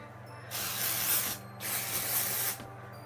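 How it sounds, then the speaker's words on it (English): Two separate hissing bursts of Not Your Mother's Clean Freak dry shampoo aerosol spray, each lasting about a second, close and fairly soft, with brief quiet gaps around them. "I'm gonna use a little Not Your Mother's Clean Freak dry shampoo. I'm gonna spray that in my roots."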